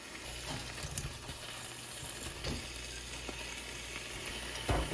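Fried vegetables hit masala sizzling in ghee, giving a steady close hiss with scattered stirring clicks and a louder burst of sizzle at the end.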